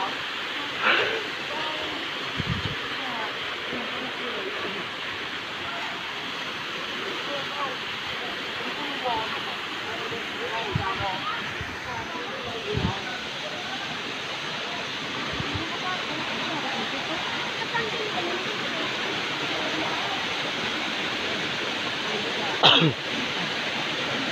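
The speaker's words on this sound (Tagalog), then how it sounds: "At nakita na po namin ang pangalawang falls." Steady broadband rush of a second waterfall on an outdoor adventure hike, continuous and fairly loud from start to end, with a few brief thumps and knocks over it and no speech.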